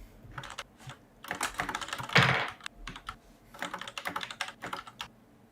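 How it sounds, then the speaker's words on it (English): Fast, furious typing on a computer keyboard in quick bursts of clattering keystrokes, close and clear, with short pauses between runs. "Sound of furious typing commences."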